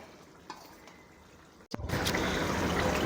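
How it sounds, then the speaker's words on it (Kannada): Water poured into a chicken masala gravy while cooking: after a quiet simmering sizzle, a sudden splash gives way to a louder, steady hissing bubbling, close up. "ಈಗ ಇದಕ್ಕೆ ಒಂದು ಸ್ವಲ್ಪ ನೀರು ಸೇರಿಸ್ತಾ ಇದೆಯಾ?"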